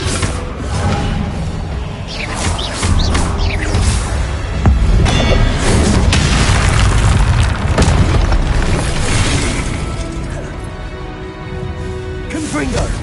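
Repeated Incendio fire blasts and Confringo explosive spells in Hogwarts Legacy, heard as dense, loud booming bursts and whooshes that overlap continuously, with a voice shouting over the barrage.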